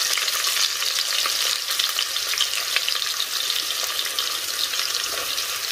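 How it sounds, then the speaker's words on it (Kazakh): Onion fries in oil for stuffed cabbage rolls, a loud, steady sizzle with stirring and no talking. "Енді үстіне жуаны салып қуырамын."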